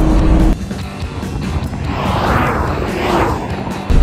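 A classic American V8 car, with a long-throw manual shifter, pulls away under acceleration. Its loud engine roar rises and swells steadily after a brief drop at the start.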